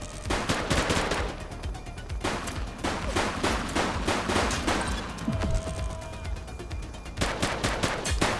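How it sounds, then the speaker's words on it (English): Sustained, dense gunfire from The Precinct, a top-down police crime action game: loud rapid volleys and automatic bursts that run almost without pause, briefly breaking for a moment before resuming. "Don't just stand there, shoot back!"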